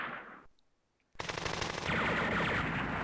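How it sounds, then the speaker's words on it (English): A medium machine gun fires in a war strategy video game, with a short burst, a brief silence, then a loud sustained stream of rapid automatic fire lasting about two seconds. "It is a medium machine gun."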